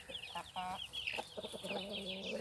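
Chickens and a rooster cluck steadily and overlap one another in a farmyard with chicks, a fairly quiet, busy chorus of short calls continuing throughout.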